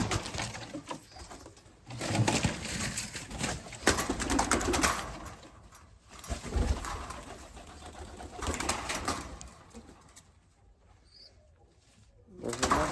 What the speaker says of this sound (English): Now this bird's walking on my phone.